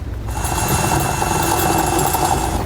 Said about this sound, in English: We're going to mount that using the self-tapping screws that come provided with the kit.